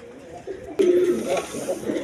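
A pair of Giribaz pigeons, red-coloured fancy birds offered for sale, give a short throaty coo after a sharp click, with soft low cooing continuing and faint background noise.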